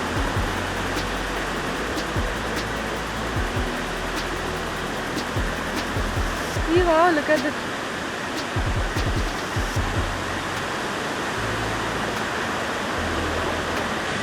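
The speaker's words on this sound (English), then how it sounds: "So there are such mini waterfalls as well." Mini waterfalls in Plitvice National Park, Croatia, pour in a steady broadband rush of falling water, continuous and fairly near, with a few brief exclamations from a person over it.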